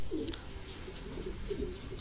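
Racing pigeons coo softly nearby, several throaty rolling calls in a short sequence over a quiet background.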